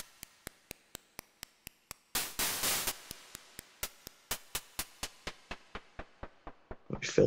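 Evenly spaced synthetic clicks from a Minimoog Model D tick along, broken by a burst of white noise partway through; each hit trails off in a reverberant tail.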